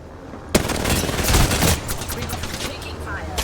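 Gunfire erupts in an Apex Legends match. It starts abruptly and builds into rapid automatic bursts and dense impacts, then thins into scattered shots, with game voice lines talking over it.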